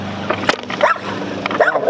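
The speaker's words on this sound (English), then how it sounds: "Oh, the dogs love company. They're going crazy, ain't they?" Several dogs bark excitedly at a visitor near a metal workshop, with sharp, close barks and yips scattered in quick, irregular bursts.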